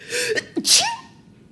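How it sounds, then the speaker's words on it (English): A single loud sneeze with a sharp gasping intake before it, close to the listener, followed by a moment of quiet. "I'm going to sneeze."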